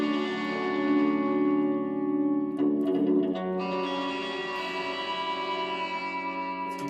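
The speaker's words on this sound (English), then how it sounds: "Let's try it with a heavy dose of echo." Guitar chords played through a heavy echo effect, sustained ringing strums with a strummed change midway and repeats trailing off, loud and close with no voices.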